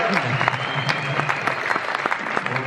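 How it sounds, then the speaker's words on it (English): An audience at a live Q&A with James Cameron applauds, a close, steady clatter of many hands with sharp individual claps standing out throughout. "Thank you for that applause."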